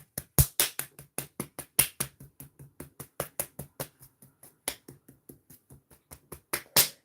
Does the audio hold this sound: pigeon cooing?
no